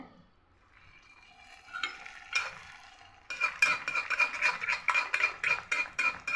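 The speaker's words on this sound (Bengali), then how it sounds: "এখন আরেকটা পুরি দিয়ে দিচ্ছি ভাজার জন্য" Aloo puri frying in oil on an old, blackened stove: quiet, faint scraping at first, then a loud, close crackling sizzle with rhythmic bursts of spattering.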